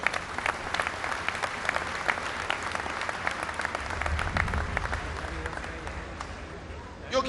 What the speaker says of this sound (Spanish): Felicidades y un fuerte aplauso también para todos ustedes.